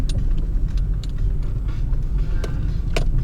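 Cars rumble past on a road, a steady low engine drone with occasional whooshes as vehicles go by.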